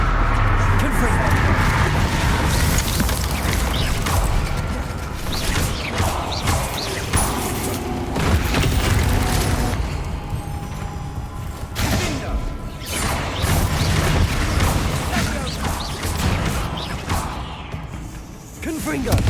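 Confringo spell blasts in Hogwarts Legacy, repeated crashing impacts and whooshes scattered across a busy fight, loud and close, with a voice talking throughout.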